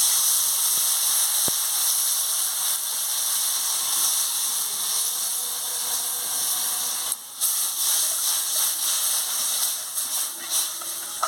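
Water pours into a hot pan of pangas fish cooked with mustard, raising a steady loud hiss and sizzle of steam that carries on throughout, with a brief dip and some bubbling bursts later.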